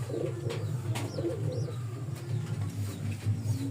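Pigeons coo softly and repeatedly at close range while feeding their first chick, a steady low burbling that runs the whole time with faint chirps above it.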